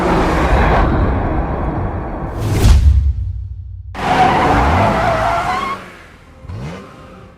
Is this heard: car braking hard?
yes